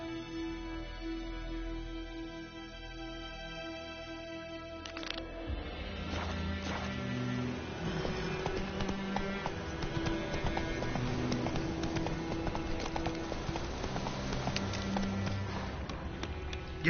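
Horse hooves gallop in The Witcher 3: Wild Hunt, a steady rapid drumming that picks up around the fifth second and carries on under a layer of game music.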